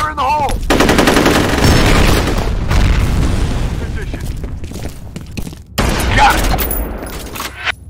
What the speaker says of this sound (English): Grenade out! Fire in the hole!